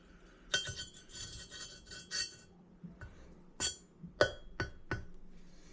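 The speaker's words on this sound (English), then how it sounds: "Then we'll go ahead and drop the valve down in." An engine valve coated with lapping paste drops into a cylinder head during a 1000HP LS engine build, giving light metallic clinks and taps in an irregular sequence, close and fairly quiet, with no voices.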